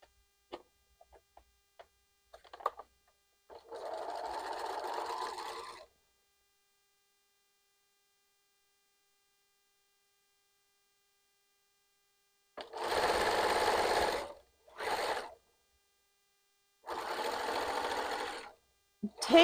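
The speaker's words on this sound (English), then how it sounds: "let's just move over to the sewing machine" A sewing machine stitches a T-shirt quilt in three short bursts of steady whirring, each lasting a couple of seconds with quiet pauses between, close and clear with faint handling clicks.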